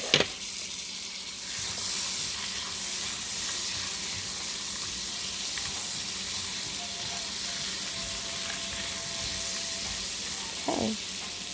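Butter melting in a hot pan for a banana caramel glaze, a steady close sizzle and crackle that runs throughout, with a brief scrape near the end.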